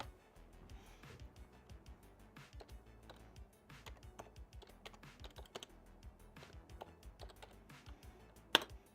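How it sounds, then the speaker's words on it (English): Fast typing on a computer keyboard, a close run of light irregular clicks and key taps with one louder clack near the end. "I can get my keyboard over here."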